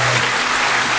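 A television studio audience greets the singers Lange Frans, Baas B, Brutus and Tim with a brief, loud, unbroken wash of applause lasting about a second.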